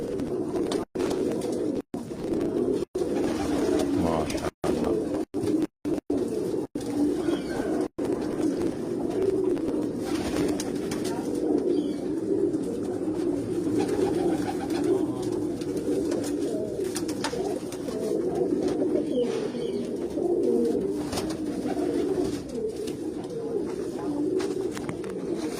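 Pigeons coo steadily in a low, continuous murmur at a fancier's loft in Tando Allahyar, Sindh, with a dense mass of overlapping calls and a few brief dropouts near the start.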